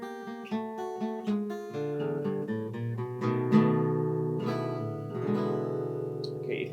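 Blues shuffle turnaround on guitar, a short sequence of plucked notes and slides ending on ringing chords, clear and close, played alone without talking.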